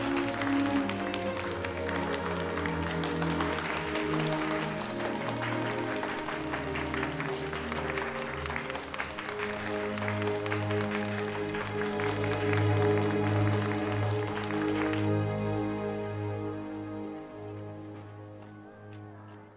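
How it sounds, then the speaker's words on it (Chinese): A group of students gives warm applause in a classroom scene of a drama, steady dense clapping over background music for about fifteen seconds before the clapping stops and the music fades. "用热烈的掌声来表达"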